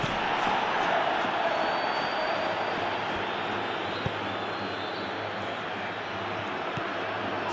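Steady stadium crowd roar from a football video game, a dense continuous wash of cheering voices that holds at an even level for the whole stretch, with no break or distinct shouts standing out.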